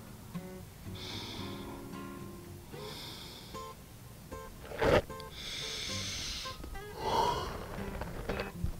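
Slow, deep breaths drawn in and let out during a guided staff stretching exercise, several long airy inhales and exhales close by, with one sharper snort-like breath partway through.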